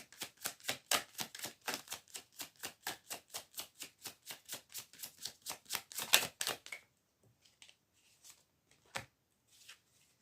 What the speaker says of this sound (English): I'm just going to pull cards